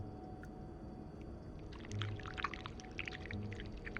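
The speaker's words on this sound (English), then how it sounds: "First step, pour the wax, I suppose?" Hot wax poured from a pot in a game, a soft liquid trickle and splash that starts partway in and continues quietly to the end over a low background hum.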